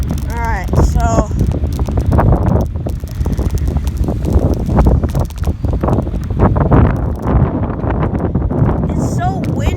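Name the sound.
strong wind blowing on a bike ride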